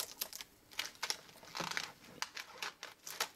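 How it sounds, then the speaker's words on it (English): Tape being peeled off plastic packaging around beads for a fashion designer sketch book set, heard as a run of close, crackly ripping and crinkling bursts in short uneven pulses, with no talking. "I'm going to take the tape off of it."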